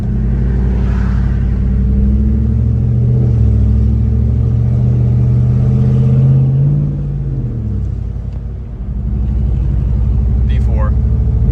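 Deep, steady exhaust drone from a 6.2 V8 Chevrolet Silverado with a cat-back straight pipe exhaust, running continuously with a brief dip in pitch near the end, with talking over it.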